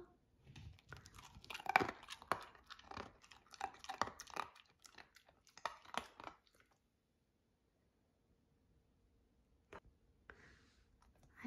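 A four-month-old Standard Poodle puppy chews crunchy food up close, with several seconds of irregular crunching and biting. Then it goes quiet, apart from a couple of faint clicks.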